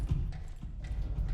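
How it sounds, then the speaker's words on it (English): Two sets of footsteps thud close by in a horror video game, a steady uneven clopping rhythm of heavy steps under a low rumbling background, with no one talking. "it sounds like there's two footsteps"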